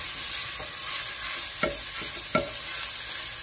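Ground pork frying with onion, ginger and garlic, a steady sizzle with a couple of distinct scraping stirs of the spatula against the pan.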